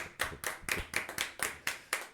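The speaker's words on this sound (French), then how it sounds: "On nous applaudit encore, on nous applaudit encore." Congregation clapping in steady rhythm during a Catholic mass, about ten sharp, evenly spaced claps over two seconds, fairly quiet and at a moderate distance with no voices.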